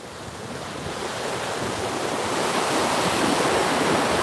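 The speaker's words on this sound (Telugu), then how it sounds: "బీచ్ వాటర్ తగలగానే మామూలుగా లేదు" Ocean surf rolls onto a beach in a steady, continuous wash of breaking water with some wind rumble on the microphone, growing slightly louder and unbroken by any voices.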